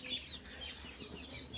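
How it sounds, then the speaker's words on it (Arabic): A broody hen clucks softly in a backyard poultry coop, a low, steady murmur of close, repeated clucks against a noisy background. "بس جوري هنا كاركة،"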